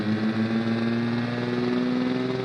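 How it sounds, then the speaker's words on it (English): A Forza rotary engine sound swapped onto a van in BeamNG, droning at a steady whirring idle with a strong constant tone, close and continuous with no revving. "This is a rotary engine sound from Forza."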